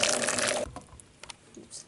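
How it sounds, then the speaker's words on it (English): Hot water splashes over apples being prepared for homemade toffee apples, a short burst of pouring and spattering, then quiet drips and small clinks. "Drenching them in a bit of hot water now."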